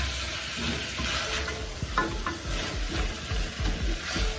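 Vegetables and rice stirred in a pot on the stove, with steady low sizzling and soft irregular scraping strokes of the spoon, close and moderately loud with no talking.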